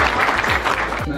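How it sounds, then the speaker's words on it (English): Audience applause at an Elvis birthday weekend event in a hotel function room: a dense, steady wash of clapping from a crowd, loud and continuous, with a voice speaking over it. "So let's have just 30 seconds of applause for absent friends."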